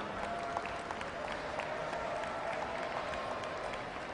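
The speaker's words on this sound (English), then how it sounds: "Give a big round of applause to Muhammad Ali, the Chief Executive of Isla" An audience applauds a speaker being introduced at a formal address, steady dense clapping that fills the room evenly from start to finish.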